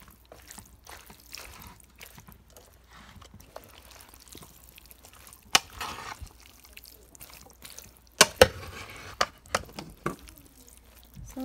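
Pasta salad dressed with Italian dressing being stirred in a bowl: wet, squelchy clicks and scrapes that are irregular, with a few louder sloshing bursts toward the end.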